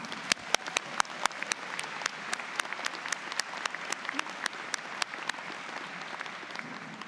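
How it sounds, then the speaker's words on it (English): Applause from a crowd at a college convocation after a singer performs, steady clapping with a few sharp individual claps standing out, moderately distant and sustained throughout. "Let's give her a big round of applause."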